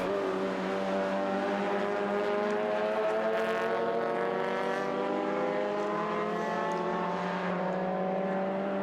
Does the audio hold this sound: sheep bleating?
no